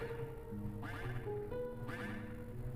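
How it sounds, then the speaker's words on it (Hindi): Repeated electronic-sounding duck quacks, several in a row over a background of game music and effects. "बतख की आवाज़ तो आ रही है, लेकिन बतख है किधर?"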